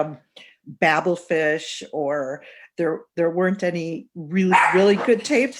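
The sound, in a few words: dog barking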